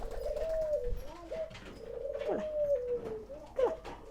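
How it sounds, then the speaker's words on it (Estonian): Pigeons coo at close range inside a school nature house, giving three drawn-out, soft warbling phrases over faint room noise. "Tuvidega saavad meil peaaegu kõik kohalikud lapsed ilusti hakkama, sest tuvid on niivõrd usalduslikud."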